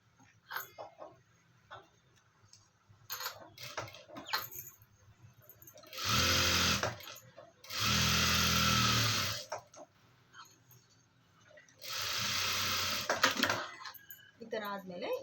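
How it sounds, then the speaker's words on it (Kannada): A sewing machine stitches around a garment lining in three loud, sustained bursts, each a couple of seconds long, separated by quieter handling noise and fabric movement. "ಇಲ್ಲಿ ಲೈನಿಂಗ್ ಸುತ್ತಲೂ ಒಂದು ಸ್ಟಿಚ್ ಹಾಕೊಳ್ಳೋಣ"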